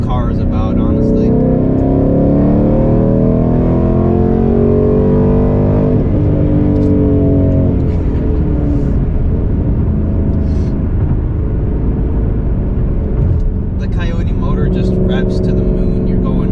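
A Ford Mustang GT engine roars loud and continuous, its pitch rising and sweeping through high revs, with a brief dip midway, as a voice talks over it.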